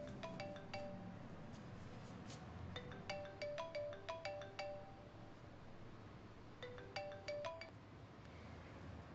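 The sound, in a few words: phone ringtone ringing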